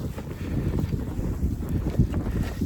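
Wind blows during a March blizzard in the Rocky Mountains, a steady, close, buffeting rush with gusty swells and no talking.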